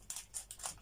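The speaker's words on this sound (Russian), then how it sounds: "Оксана, ну а ты на открывай последние ножницами" Scissors snip open a toy surprise package in three or four quick, close cuts, each a short crisp crunch, with no talking.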